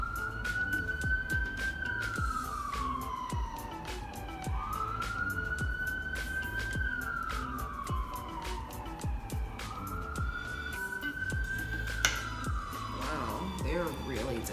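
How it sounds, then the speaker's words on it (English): A wailing ambulance siren rises and falls in slow repeating sweeps as it passes, with traffic noise and a person talking over it. "it's an ambulance going by"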